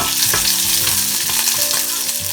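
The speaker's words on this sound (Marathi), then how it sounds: "लसूण फ्राय झाल्यानंतर आपण त्याच्यामध्ये हा कढीपत्ता टाकूया" Curry leaves drop into garlic already frying in hot oil, giving a loud, steady sizzle and crackle with a few stirring scrapes, close up and with no talking.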